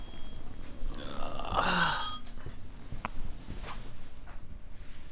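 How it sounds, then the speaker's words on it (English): A phone rings with a bright electronic tone, fairly close, then stops, leaving a quiet room with faint background noise. "That's my wife's phone going off."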